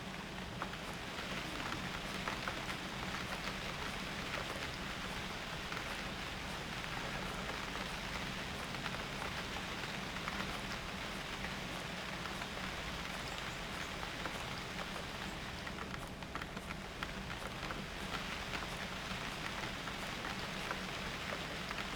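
Steady, heavy driving rain in the game UnReal World pours down without pause, a dense hiss of drops drumming on surfaces close by, with no voices.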